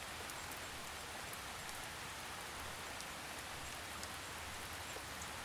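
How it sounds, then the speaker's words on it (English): Gentle drizzle falling steadily, a soft continuous hiss of rain with faint scattered drop ticks, even and unbroken throughout, calm and moderately distant. "You're cradled by the gentle rhythm of rain."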